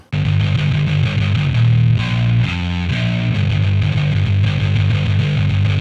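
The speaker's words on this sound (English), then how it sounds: "you can clearly hear how that makes the distortion less farty and everything more precise" A heavily distorted bass guitar with its low end cut plays a tight, punchy riff with a lean low end, loud and continuous throughout.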